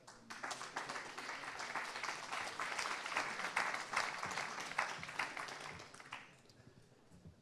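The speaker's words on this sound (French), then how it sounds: "sur scène sous vos applaudissements" Audience applauding at a rail-industry conference day as panelists for a round-table discussion come up on stage; steady, moderately loud clapping for about six seconds, then fading away.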